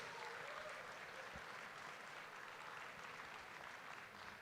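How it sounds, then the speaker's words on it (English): Audience applause at a university campaign kickoff celebration, a steady, dense wash of clapping that holds evenly for the whole stretch without pause. "Give them a round of applause."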